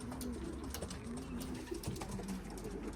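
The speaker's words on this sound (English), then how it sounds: "these are 10 pigeons coming through" Racing pigeons back home after a young bird race give soft, low coos that repeat at an uneven pace under steady outdoor background noise, close and moderately faint.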